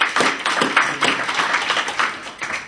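Audience applause for a speaker at a political talk, a dense steady wash of many hands clapping at close range, continuous and fairly loud with no voices over it.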